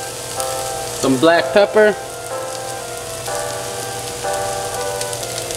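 Pork chops sizzling in a pan, a loud steady frying hiss throughout while a person speaks briefly near the start.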